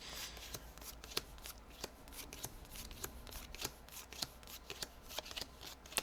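Board game cards being shuffled and sorted into stacks by hand, giving a quiet, close run of quick riffling and sharp card snaps at a brisk, uneven rhythm.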